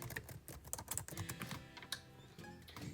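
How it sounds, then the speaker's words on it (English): Quick, light typing on a computer keyboard, a steady patter of soft key clicks at close range and fairly quiet, with no talking. "she's gonna type in Standard"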